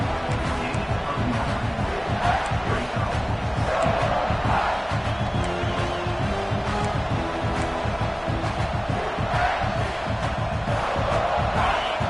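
A football stadium crowd roars steadily for the defense during a red-zone stand, a dense sustained wall of cheering and yelling with scattered whoops throughout.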